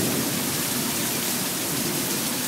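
Heavy rain from Hurricane Isaac pours down in a constant, dense hiss, close and even throughout, with no talking heard.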